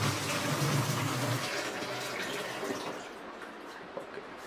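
Homemade grape wine mixture poured from a vessel into a can, a steady liquid splashing and gushing that is loud at first and gradually thins out, with no talking.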